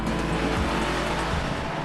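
A Honda S2000 sports car driven hard, its engine roaring loud and close with a steady high-revving drone and road noise throughout.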